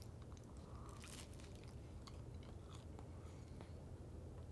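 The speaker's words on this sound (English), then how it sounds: "let's just take a bite of it this way" A bite into a hot, crispy fried tortilla, a few close, quiet crunches followed by chewing, with no talk.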